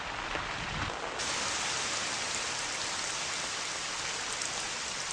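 Rain pattering onto plastic sheeting covering the ground, a steady close hiss of many drops, faintly softer at first, then uniform and continuous with no talking.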